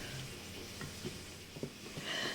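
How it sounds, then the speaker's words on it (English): Butter spread across a baking pan for baked beans, heard as faint, soft scraping and smearing strokes with a few small knocks against the pan, quiet and close. "Just finishing up buttering the pan"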